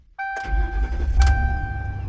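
A car engine cranks and catches at the start of a road trip, settling into a steady mid-pitched idle, close and loud, with a short surge partway through.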